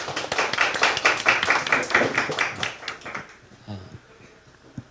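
An audience claps to welcome a guest lecturer on Chinese overseas marketing: a dense burst of many hands clapping for about three seconds, then quickly thinning to scattered claps and faint room noise.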